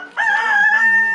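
A rooster in a Thai village crows once, loud and close, a sustained tonal call held steady for about a second after a short rising onset.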